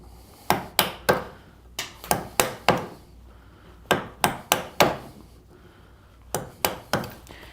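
A chisel is tapped with a mallet to knock dovetail waste out of a wooden board, sharp woody knocks coming in quick clusters of two to four, close and loud with short pauses between groups.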